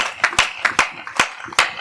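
A small audience claps to welcome Rohit Sharma onstage at a Hindi comedy poetry event, several separate sharp claps spread over a short moment, thin rather than a full ovation.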